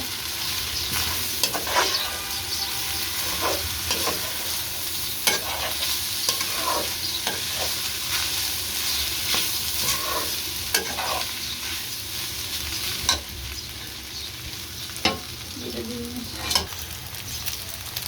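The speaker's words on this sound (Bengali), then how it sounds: "সবগুলো উপকরণ নেড়ে নিচ্ছি।" Chicken and vegetable biryani ingredients with soy sauce sizzle steadily in a pan while a spoon scrapes and stirs, giving repeated sharp clacks and scrapes over the constant frying hiss.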